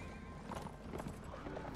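A horse whinnies amid hoofbeat clip-clop during combat in the video game Mount & Blade Warband, moderately loud with game background noise, brief neighing bursts over busy ambient sound.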